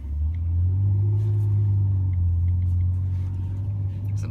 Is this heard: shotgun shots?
no